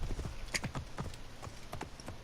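Horse hooves clip-clopping at a steady walking rhythm in Assassin's Creed Origins, a run of distinct hoofbeats close by with no talking over them.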